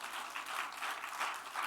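Church congregation at an evening New Year blessing revival service applauding, a steady wash of many hands clapping at moderate, somewhat distant level with no voices.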